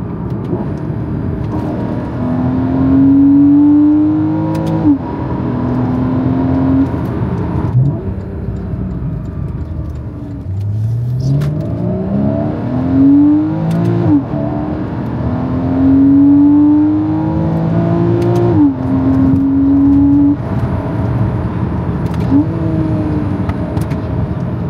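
Porsche Cayman engine revving up and down repeatedly while driving, rising and falling pitch through several gear pulls over steady road and engine hum, loud and close with no talk.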